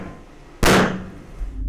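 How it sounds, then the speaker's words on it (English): A single sharp, loud methane gas blast erupts suddenly out of quiet, then a broad roar decays over about a second. "And so you get a very rapid explosion."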